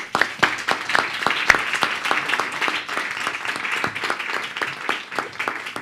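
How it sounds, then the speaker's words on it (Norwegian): Audience applause at a panel discussion during Arendalsuka 2022 in Norway, steady crisp hand claps from a modest crowd, close and sustained for several seconds without any voices. "og så gir vi dere en applaus."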